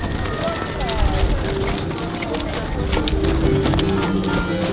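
Horses' hooves clip-clopping at an equestrian show at the Brignoles fair in Provence, with steady hoof beats under continuous crowd noise and talk, and an occasional faint whinny.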